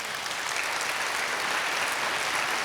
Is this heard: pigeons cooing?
no